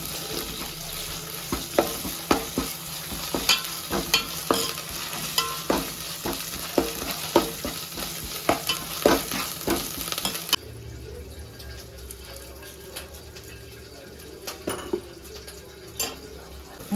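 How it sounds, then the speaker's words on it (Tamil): Small shallots fry with ginger-garlic paste in a pan while a utensil stirs and clinks against the metal in regular strokes over a sizzling bed. The scraping thins out later and the frying quietens. "சின்ன வெங்காயம் நல்லா நேரமாக சவுந்துச்சு வாங்க அதில் இஞ்சி பூண்டு பேஸ்ட்டு சேர்த்து நல்லா வதக்கி எடுத்துக்கலாம்"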